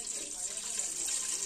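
Water pours steadily into a pot for payasam, a continuous hissing splash that stays quiet and even throughout, with no speech.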